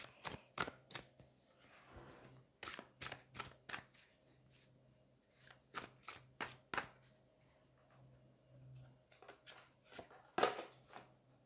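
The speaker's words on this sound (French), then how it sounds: "Allez, on va aller prendre une autre carte." Tarot cards are shuffled and drawn, giving a run of crisp, quick slaps and flicks in uneven bursts, close and fairly quiet, with no talk.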